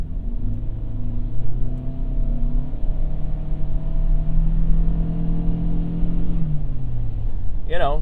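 A 2024 Toyota Sienna LE minivan accelerating in sport drive mode, heard from inside the cabin as a rising engine drone with steady road rumble, a shift easing the pitch partway through, and a person talking over it.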